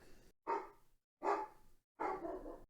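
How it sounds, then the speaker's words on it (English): A dog barks three times in short, loud bursts about half a second apart, each a full, rough woof heard alone without talk. "Dog's barking at something."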